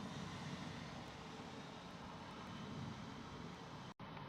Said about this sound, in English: Safely on the ground, thrust reversers deployed, no go around possible anymore.